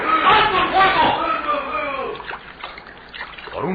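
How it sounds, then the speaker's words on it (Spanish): Radio-drama water effects as Kalimán sinks beneath the waves under gunfire: sloshing and splashing, muffled and band-limited, with a voice speaking over the water. "Calimán se hundía bajo las olas mientras las balas se incrustaban en el agua."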